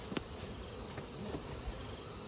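Honey bees fly into a hive box set on a trailer, a soft continuous buzzing drone with a couple of faint taps, no voices.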